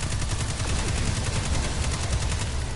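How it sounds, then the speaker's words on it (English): Dense, rapid video game gunfire aimed at an enemy's head, sounding as loud, continuous automatic bursts that fill the whole stretch with no pause and no talk over them. "Concentrate fire on his head."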